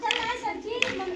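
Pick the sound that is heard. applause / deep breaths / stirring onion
applause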